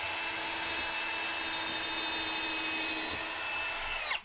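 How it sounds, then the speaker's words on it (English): A power drill runs steadily boring a 3/16-inch pilot hole into a wooden wall stud, a close continuous whine that holds for about four seconds, then winds down abruptly. "we're going to drill a 3/16 hole, just pre-drilled into the stud so we aren't splitting the stud or anything"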